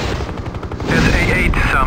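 A helicopter gunship's turret gun fires in the game Hind, a rapid burst of close, heavy automatic shots followed by a denser sustained roar, with a voice talking over it.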